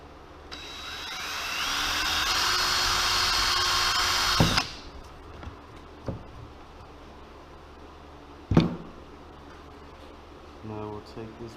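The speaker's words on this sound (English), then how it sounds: "this is a 5/32 drill bit" A power drill boring screw holes with a 5/32 bit for a trolling motor mount on a boat, a close whine for about four seconds that stops abruptly, followed by clicks and knocks.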